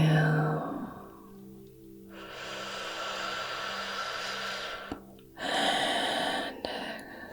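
A person taking a slow, deep breath, close and soft. A long, airy stream of breath fades, and a fuller, louder inhale follows near the end.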